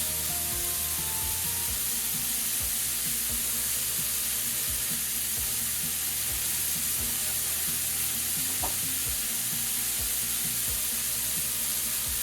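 Lamb barbacoa burger patties fry in a pan with a steady, close sizzle and crackle that carries on without a break, with no one talking over it.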